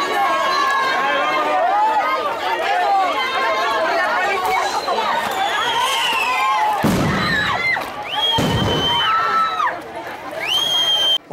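A crowd of protesters shouts and screams amid chaotic commotion as firework rockets are launched at them, with several sharp loud bangs and whistling streaks cutting through the noise.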